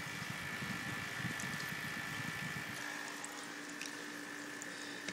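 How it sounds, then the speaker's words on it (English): Steady low hum of a water pump running in a tee'd grow bed system with a valve controlling flow, a higher-volume pump pushing more gallons per hour, with a faint trickle of water throughout. "I took a different pump, one that pumps a little bit harder, more gallons per hour"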